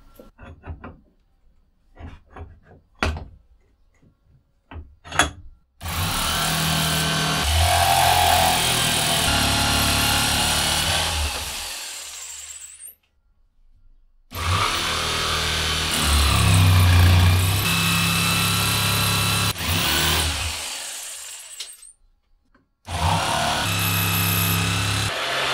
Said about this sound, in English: I'm just going to cut these out on the jigsaw and see what happens there